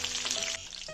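Honey garlic chicken pieces frying in hot oil, a steady bright sizzle with bubbling crackle throughout, close and even, with a brief dip in intensity midway.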